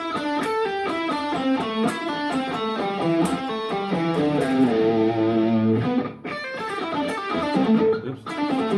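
Blues rock electric guitar playing a pentatonic lick with slides, slightly distorted single notes in a steady flowing run, loud and close with a brief dip near the end, no talking.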